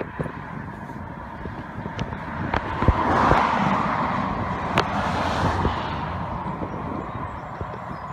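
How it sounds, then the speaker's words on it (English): A car approaches and passes along a quiet rural road in the Malvern Hills, its engine and tyre noise swelling gently from a distance and fading again, over steady outdoor background hum. "And there's a car coming."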